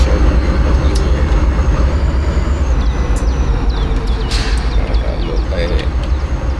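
Simulated freight train rolling along the KCS Shreveport Sub in a train simulator game, a steady low rumble and drone of wheels and engine running continuously with faint higher squeals and clanks on top.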